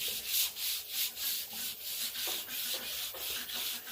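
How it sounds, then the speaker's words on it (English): Hand sanding of a wooden picnic table along the grain, a steady back-and-forth rasping of abrasive on wood, close and even, with about eight strokes in a regular rhythm and no voices. "And lightly sand"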